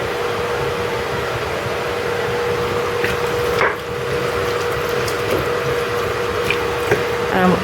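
Torn bay leaves being stirred into homemade tomato ketchup in a pot, a steady close scraping and sloshing texture with a faint hum behind it.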